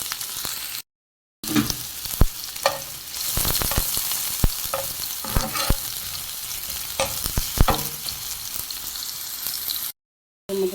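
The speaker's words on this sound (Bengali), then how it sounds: "সরিষার তেলটা খুব ভালোভাবে গরম হয়েছে এখন আমি এটার মধ্যে দিচ্ছি হাফ কাপ পেঁয়াজ কুচি" Chopped onion hitting hot mustard oil, a loud close sizzle with sharp spatter and repeated stirring clacks of a spoon against the pan, broken by two brief gaps.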